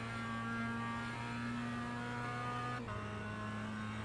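Mazda MX-5 race car in iRacing at Oulton Park International, its engine holding a steady drone under throttle, then dipping briefly and pulling again, close and continuous with no talk.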